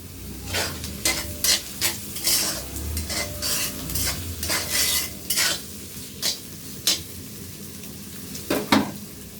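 Spices, salt and vegetables are stirred and sautéed in a pan, a steady fry punctuated by repeated scraping strokes of a utensil at an uneven rhythm, close and fairly loud, with no talk.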